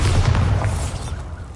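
A Bombarda blasting spell going off in a Hogwarts wizarding video game: one heavy, booming explosion with a deep low rumble that fades over a second and a half.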